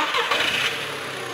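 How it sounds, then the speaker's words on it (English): A car engine cranks and catches in a brief burst, settling into a low steady idle, moderately loud and close, with no voices. "Run the scope and start the engine."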